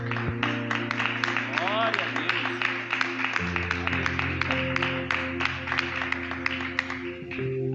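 Church congregation at a Thursday morning worship service clapping hands in praise in a steady rhythmic beat, with sustained music and voices continuing beneath the claps.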